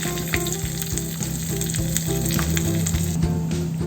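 Curry leaves and asafoetida sizzle in hot oil for a rice dish, a close, steady crackling fry with bright pops and spatters and no voices.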